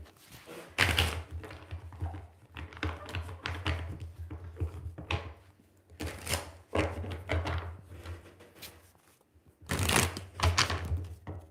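Tarot cards are shuffled in quick, papery bursts of riffling and tapping, pausing briefly between rounds, close and fairly quiet.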